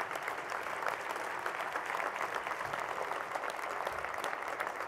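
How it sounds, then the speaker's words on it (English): A luncheon audience gives the Goldmark family steady, dense applause, many hands clapping at an even level throughout with no voices on top. "So please, big round of applause for the entire Goldmark family."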